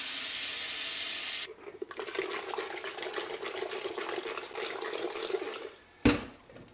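Drinking water pours and splashes steadily while rinsing out a barrel used for pickling cucumbers, a continuous close wet rush that stops abruptly near the end, followed by a brief thud.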